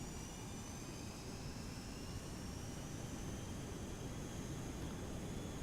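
Simulated Boeing 737-200 jet engines spool up in a flight simulator, a steady broadband roar with faint rising whine tones, even and continuous without talk.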